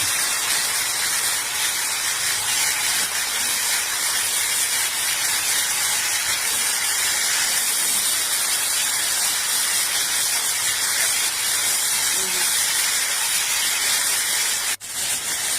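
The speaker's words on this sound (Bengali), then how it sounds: "একটা ফ্রাই প্যানে তেল দিয়ে 4 মিনিট মিডিয়াম আঁচে এপিট ওপিট করে ভেজে নামিয়ে নিব" Chicken breast fries in oil in a pan, giving a loud, steady sizzling hiss that holds unbroken for the whole stretch, with one brief clatter near the end.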